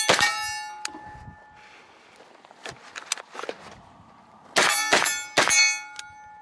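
Pistol-caliber carbine rounds from a CMMG MKG or CZ Scorpion strike small steel targets, giving sharp ringing metallic clangs. They come as a few isolated hits followed by a quicker cluster, with soft footsteps in between.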